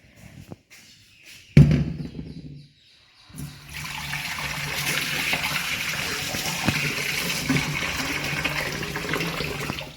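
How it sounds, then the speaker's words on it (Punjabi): A short clatter, then water pours steadily into a metal wok to wash it, a continuous splashing rush that fills the rest of the clip. "ਕੜਾਹੀ ਪਿੱਲੀ ਹੋ ਗਈ ਹੈ ਨਾ ਆਪਾਂ ਧੋਣ ਨੂੰ ਰੱਖਾਂਗੇ ਥੋੜਾ ਪਾਣੀ ਪਾ ਕੇ"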